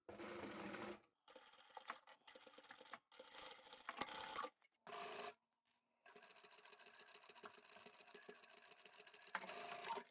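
A sewing machine stitches a two-toned scrap-fabric vinyl upholstery bag, running in steady close runs of rapid mechanical clatter broken by short pauses, then one long continuous stretch of stitching.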